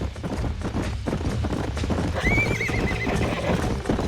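Horses in the Red Dead Redemption video game trot with clip-clopping hooves while one neighs clearly partway through, a close, busy scene without speech.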